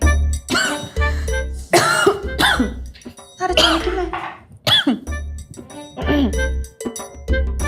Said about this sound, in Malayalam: ഭയങ്കര തൊണ്ടവേദനയും ചുമയൊക്കെ